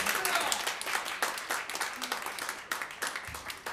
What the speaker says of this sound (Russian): Хлопайте.